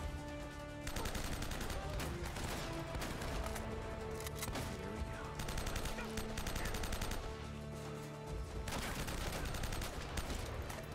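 Dense, sustained gunfire in the video game Uncharted, with rapid overlapping shots and bursts that run almost continuously across the clip under game music and effects, with a brief lull near the middle.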